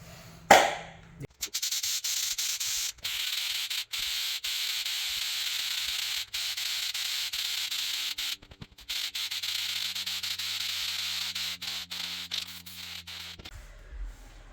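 Homax texture spray hisses steadily from a can onto a patched drywall for several seconds, with short pauses and a sharp click at the start.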